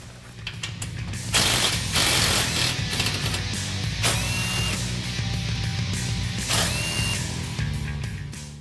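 A power tool whirs and rattles loudly up close while removing 10mm and 8mm brake line bolts on a 2017 Ford F-150 Raptor during a leveling kit install, running in long continuous bursts with brief breaks.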